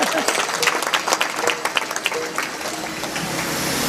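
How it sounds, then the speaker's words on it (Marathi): Applause from a kirtan audience in a Marathi comedy kirtan, dense overlapping claps that are strong at first and then thin into a softer, steady patter, heard close by. "टाळी वाजवा तुमच्याबद्दल"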